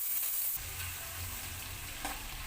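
Vegetables with turmeric, chili powder and salt stirred in sizzle steadily in a hot pan, a close, even frying hiss with a soft scrape of stirring partway through and no voices.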